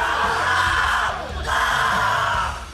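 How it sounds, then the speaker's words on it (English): A pro esports player lets out a loud, sustained hype scream during an OpTic Gaming versus Luminosity match. The raw yelling runs for nearly three seconds with a brief dip midway, over a noisy, crowded background. "leading to the scream heard around the world"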